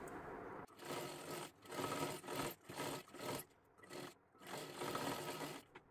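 A sewing machine double-stitches a one-piece dress cut from a bordered saree for a young girl, running in quick close bursts separated by short pauses.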